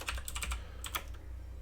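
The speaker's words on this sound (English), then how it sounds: "you're hearing my very loud keyboard" A very loud computer keyboard is typed on in short clustered bursts, with sharp clicky keystrokes close up, a pause, then a few more presses over a faint steady hum.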